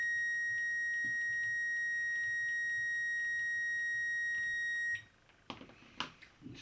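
A multimeter continuity tester sounds a steady, continuous high-pitched tone for about five seconds, then cuts off, followed by faint clicks and handling noises.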